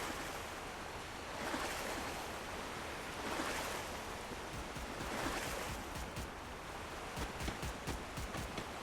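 Water splashing and sloshing as a character swims in the Free Fire battle royale video game, a soft, continuous washing sound with gentle swells and a few sharper splashes toward the end.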